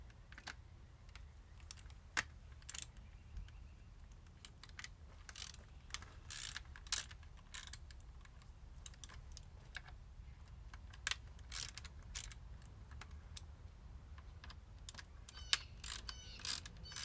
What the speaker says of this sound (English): the only tools I foresee using is going to be some hex key bits and the ratchet to drive them